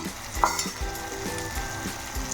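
Chicken pieces dropped into a large pan of hot oil for a chana dal chicken curry, with a close, steady sizzle and a few stirring scrapes, no voices.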